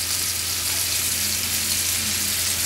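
Mushrooms fry in a pan still coated with browned bits, giving a steady, close, even sizzle with no talk over it.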